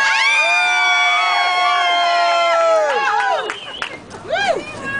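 At an outdoor rally to save the Venice post office, a crowd cheers and yells, with many sustained, overlapping whoops and shouts that hold loud and then break into scattered cries.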